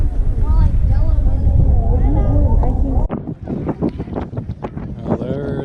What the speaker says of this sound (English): The wind is horrendous.